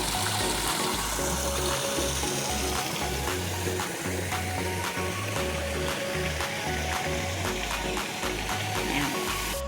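Water runs steadily into a resort swimming pool in the mountains, a continuous close trickling and splashing wash with a low rumble and faint clicks underneath, with no talking.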